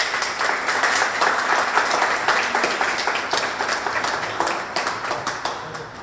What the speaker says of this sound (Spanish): les pido un fuerte aplauso para el profesor